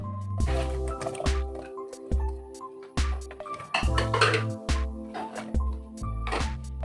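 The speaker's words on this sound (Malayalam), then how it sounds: "പിന്നെ അതിലേക്ക് നമ്മൾ കഷ്ണങ്ങളും ചേർത്ത് കൊടുക്കാം." Vegetable pieces drop into thin coconut milk in a pot while making olan for an Onam sadhya. There are a series of close, wet plops and drips, with occasional clinks of a utensil against the pot.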